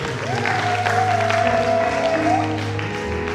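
Church congregation clapping together, a steady dense round of applause with a sustained musical tone and some voices mixed underneath.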